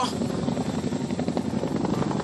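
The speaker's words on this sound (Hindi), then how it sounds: "इसीलिए चिनूक हेलीकॉप्टर्स काफ़ी बेहतरीन होता है स्पेशल ऑपरेशंस के लिए" A Chinook military helicopter makes a continuous rotor thrum and engine drone, steady and moderately loud throughout.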